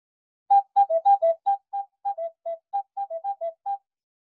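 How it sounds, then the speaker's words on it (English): An ocarina, a small bird-shaped whistle, plays a sequence of about fourteen short, clear, hollow notes at a steady pace, close and alone with no talking. "the original one was a whistle with the shape of a bird like this"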